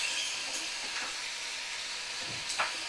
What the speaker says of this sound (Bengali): তো সুন্দর করে দেখো আমি কষিয়ে নিচ্ছি